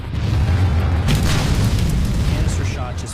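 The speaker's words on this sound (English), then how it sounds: "The casing explodes, spraying the iron balls into advancing troops at hundreds of yards per second." A Civil War cannon fires canister shot, the casing bursting and spraying iron balls, producing a deep loud boom that rolls on as a sustained rumble before fading slightly.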